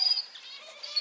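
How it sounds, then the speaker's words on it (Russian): Small songbirds chirp and twitter faintly in a park in spring, thin high calls scattered over about a second with no talking. "там у нас летают певчие птицы"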